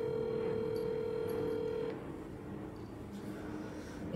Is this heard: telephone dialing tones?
yes